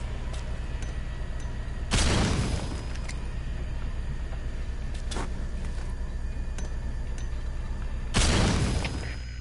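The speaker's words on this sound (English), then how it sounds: "There was an explosion." Explosions in the Metal Gear Solid V video game, two loud booming blasts several seconds apart over a steady rumbling background, with a fainter crack in between.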